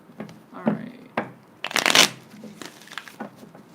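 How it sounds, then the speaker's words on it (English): Tarot deck shuffled by hand in several short bursts, the loudest near the middle, close and crisp, with brief quiet gaps between handfuls. "a couple more shuffles and I'll get right into it"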